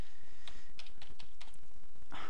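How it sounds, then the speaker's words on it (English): Steady typing on a computer keyboard as a search word is entered, a run of close, distinct key clicks over a constant background hiss. "If I type in a word,"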